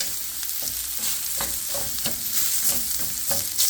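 Romaine lettuce and mushrooms sautéing in a pan over high heat, a steady close sizzle with repeated scraping stirs and soft clinks, no voices.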